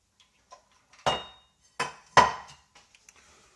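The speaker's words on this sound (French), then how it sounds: "Vous allez venir mélanger avec une cuillère en bois." A wooden spoon stirs biscuit dough in a bowl, giving a few sparse knocks and scrapes, with three sharper taps close by and quiet gaps between them.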